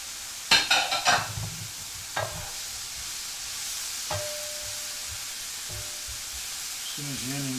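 Chopped onion goes into a hot pan for shakshuka, a few clattering knocks of the pan and utensil followed by a steady sizzle that continues underneath, with a brief voice at the end.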